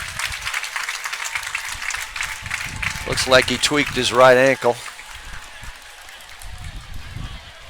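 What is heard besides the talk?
crowd applauding at a high school football game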